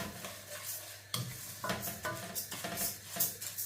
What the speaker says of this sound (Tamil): நான் கொஞ்சம் கொஞ்சமாக போட்டு அரிசி வறுத்து எடுக்க போகிறேன்